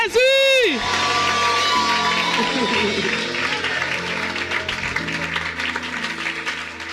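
A church congregation cheers, whoops and applauds loudly in praise of Jesus, a dense, sustained roar of clapping and shouting from a large crowd that holds steady throughout, with a brief high tone at the very start.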